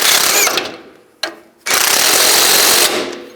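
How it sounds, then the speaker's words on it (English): Socket tool work snugs the strut nut on a 2005-15 Nissan Xterra front strut and spring assembly, loud, close bursts of harsh rattling mechanical noise broken by a short pause, then a sustained run. "I can use a 24mm wrench, an 18mm socket, snug this up."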